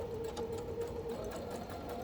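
A sewing machine runs a straight stitch down fabric in one continuous, steady mechanical hum with a fast whirring needle rhythm, close and moderately quiet, with no voices.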